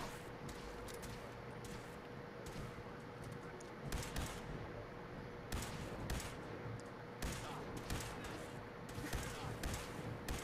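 Gunshots from a weapon in Fallout 4 crack as a series of sharp reports at uneven intervals, fairly quiet over a constant hiss and hum.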